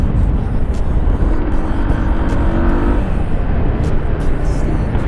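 A new FKM Slick 150 motorcycle runs with a loud, steady engine and exhaust drone, close to the recorder, with faint voices underneath.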